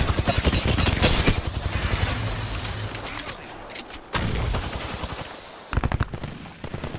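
Enemies fire at the player in a video game. Loud, rapid automatic gunfire comes in dense bursts with short pauses between them, and a brief voice can be heard in the mix.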